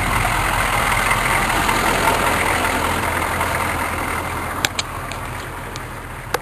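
A Chevy K5 Blazer plow truck with a Fisher angle plow idles steadily while stuck in deep snow, a low continuous engine drone with a few sharp clicks near the end.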